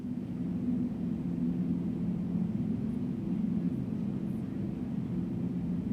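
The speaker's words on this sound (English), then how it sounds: "use a modular analog synthesizer to generate a type of noise from which we could" A steady, dense wash of noise from a modular analog synthesizer with a low, rumbling hum, droning evenly throughout like a distant airplane engine.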